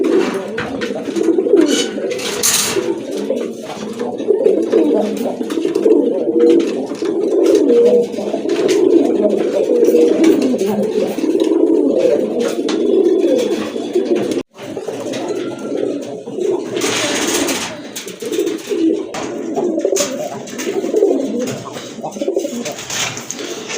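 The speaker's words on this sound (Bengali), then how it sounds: "দেখেন খাকির এক জোড়া রানিং কবুতর" A pair of khaki running pigeons coo close by in repeated soft, throaty bursts that continue almost without pause, with a brief break partway through.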